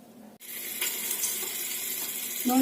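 Meat and onion frying in olive oil for an Algerian couscous with white sauce: a steady, soft hiss of sizzling begins after a brief quiet moment and continues evenly, with no voices.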